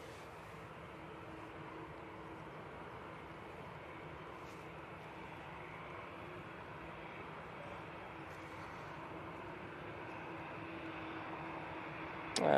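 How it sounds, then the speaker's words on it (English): An Airbus A321neo airliner touches down at Manchester Airport, heard as a faint, distant, unbroken jet roar that holds steady and swells slightly at the very end. "that's A321neo just touching down"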